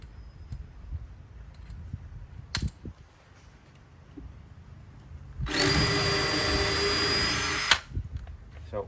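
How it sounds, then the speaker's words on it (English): A cordless power drill drives a screw in a carport during a radio Bluetooth player build: a steady high whine runs for about two seconds, after some handling clicks and knocks. "I'm going to put a couple of screws, that's it, just 2 screws to hold this down."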